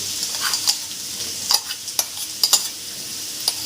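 Mashed potato being added to softened onions frying in a pan, a soft steady sizzle broken by several short scraping and stirring knocks of a spatula, close and clear with no talk.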